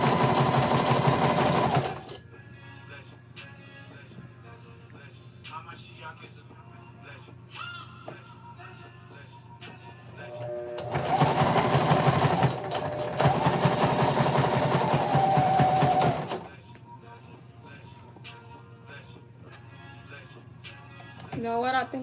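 A sewing machine runs a zigzag stitch on a girl's skirt in two loud, sustained bursts, one short and one longer, separated by quieter handling noise and someone talking.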